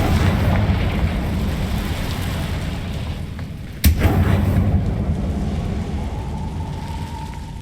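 Confringo fire spell explosion in Hogwarts Legacy, a single sharp, loud crack with a short rumbling tail that cuts through a steady, rushing, rain-like ambient wash that carries on before and after.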